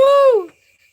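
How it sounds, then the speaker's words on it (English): An owl gives a single clear, close hoot, a bright descending call lasting under half a second, followed by near silence. "I'll get that owl right over here."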